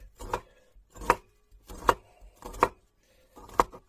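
Five evenly spaced knife chops through dough on a cutting board for lazy belyashi, each stroke a crisp close thunk roughly every three-quarters of a second, with no talking.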